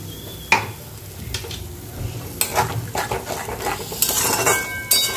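Poppy seed paste with fried fish cooks in a pan, a spatula scraping and clinking against the metal over a low sizzle, with irregular stirring strokes close by.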